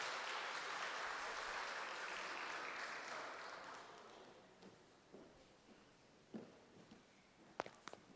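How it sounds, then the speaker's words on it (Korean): A church congregation claps to welcome a group coming forward at a Sunday afternoon service, a dense wash of applause that swells and then thins out, leaving a few scattered claps and small knocks at the end. "우리 박수로 우리 환영하도록 하겠습니다."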